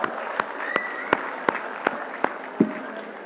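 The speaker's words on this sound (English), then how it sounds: "let's give a big applause for all the beautiful girls sitting here" An audience at a college ethnic day event claps for the students. Evenly spaced, rhythmic claps ring out over a continuous wash of applause.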